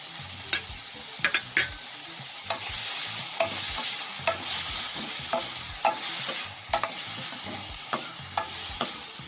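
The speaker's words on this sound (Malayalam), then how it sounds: "ഇനി ഇതിൻ്റെ ഒപ്പം തന്നെ നമുക്ക് തയ്യാറാക്കി വെച്ച പച്ചമുളക് കൂടി ചേർത്ത് കൊടുക്കാം." Onion and green chillies sautéing in a pan for beef stew, with a steady sizzle of frying and repeated sharp scrapes and clinks of a spoon stirring throughout, close and with no talk.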